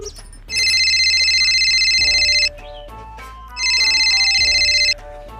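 A phone's electronic ringtone rings twice in long repeating bursts with a pause between, loud and close, as a call is placed, with faint background sounds underneath.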